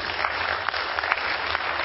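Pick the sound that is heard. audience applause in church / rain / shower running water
audience applause in church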